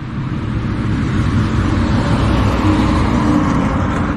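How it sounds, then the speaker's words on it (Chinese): Steady road traffic rolls past near a lakeside stop by Qinghai Lake, a loud, continuous roadway rumble with no pauses or voices. "车流挺多的"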